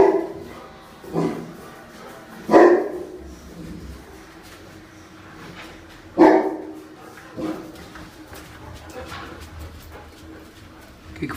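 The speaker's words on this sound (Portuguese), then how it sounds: "Tá latindo por quê?" A dog barks several times at irregular intervals, a few loud close woofs separated by quieter pauses with faint background noise between them.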